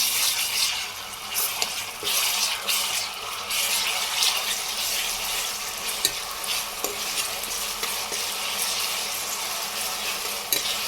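Ginger garlic paste sizzles and crackles steadily in a hot frying pan, with irregular stirring scrapes throughout and no talking.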